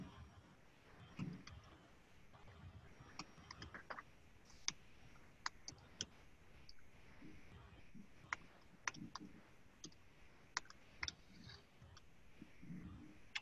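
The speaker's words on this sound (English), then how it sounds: "I'm just typing up the notes here." Sparse, irregular clicks of typing on a computer keyboard during an online meeting, faint and close, with uneven pauses between keystrokes over a low background hum.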